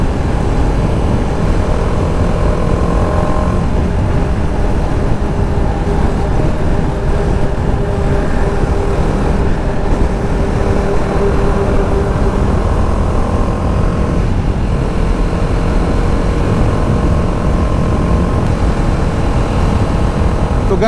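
A car cruises in sport mode on the Delhi Mumbai Expressway, a loud steady rumble of engine and road noise with wind roar that holds unbroken throughout.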